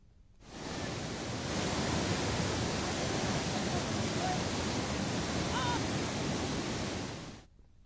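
Heavy floodwater surges through the Papagni river after project gates are lifted upstream, a loud, unbroken roaring rush that swells in and holds steady before fading out.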